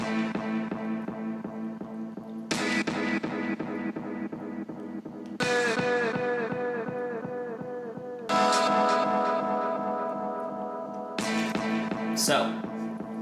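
A looped sample of Tame Impala's "Everything Went Wrong" plays in rhythmic chopped segments, each drenched in reverb with echoing repeats, restarting in sections with fresh bursts.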